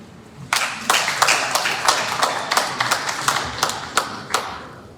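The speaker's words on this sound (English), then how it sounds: "Round of applause for them." Audience clapping for high school students at a meeting, a burst of applause with distinct sharp claps in an uneven rhythm, moderately close and sustained for several seconds.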